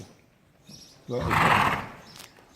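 A horse neighs loudly during a dressage riding lesson, a rising whinny of about a second that follows faint hoof and background sounds.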